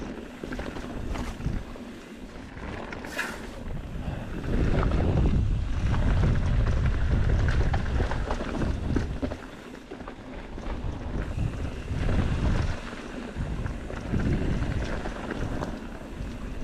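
Strong wind on Peavine Mountain near Reno roars and buffets the microphone in heavy gusts while mountain biking, swelling and easing over a continuous rushing background.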